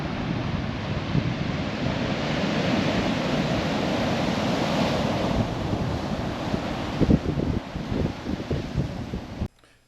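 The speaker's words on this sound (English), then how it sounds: "the entire length of the beach gets pounded by high waves with dangerous shore breaks" Heavy surf pounds a long Molokai beach, high waves with dangerous shore break, heard as a loud continuous roar of crashing water mixed with wind buffeting the microphone, swelling near the end before cutting off.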